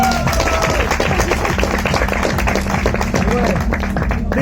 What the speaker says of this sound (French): Vous pouvez applaudir, mesdames et messieurs.